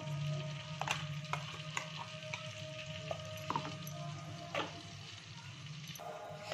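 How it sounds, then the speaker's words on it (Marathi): Ground masala paste sizzles in hot oil for a chicken curry, a steady frying hiss with intermittent scraping and stirring clinks from a spoon in the pan, close and without talk. "तेल टाकले मी, आता घालणार आहे वाटलेलं वाटण।"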